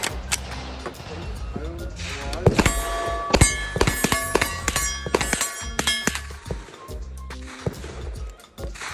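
A PMX 9mm submachine gun fires at an outdoor shooting range, with sharp cracks and quick bursts that ring against metal targets with clanging impacts, heard among other range noise while people talk nearby.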